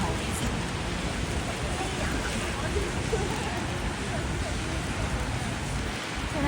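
Steady rain falls on a downtown Vancouver street, a dense, even hiss of drops spread across the whole scene, continuous and fairly loud with no breaks.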